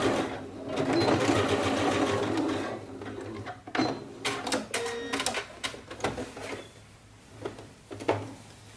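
A sewing machine stitches a built-up collar neckline, running in one continuous close whir before breaking into a series of short, stop-start bursts of stitching.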